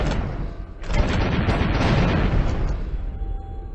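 A rapid-fire explosive weapon in the flash game Decision pounds out a dense, continuous barrage of booming blasts that runs loud and unbroken for nearly four seconds, with no one talking.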